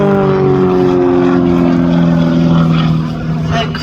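Loud propeller aerobatic aircraft manoeuvring at an air festival display, a continuous strained engine drone with shifting pitch as it tumbles, close and steady with no talk.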